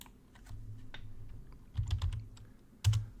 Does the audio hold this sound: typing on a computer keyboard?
yes